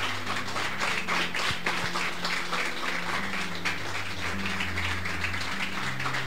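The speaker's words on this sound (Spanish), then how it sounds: "Denle una ofrenda de aplauso al Señor." A church congregation applauds during a Spanish-language service, a sustained wash of clapping from many hands with rhythmic pulses, carried over a low organ or keyboard drone and faint voices.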